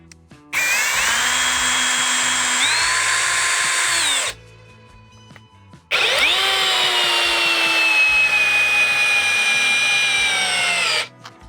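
A Procraft PA12BL brushless cordless screwdriver drives a 105 mm lag screw, 8 mm in diameter, into wood in two loud, close bursts of steady motor whine, the pitch sagging under load as each run ends.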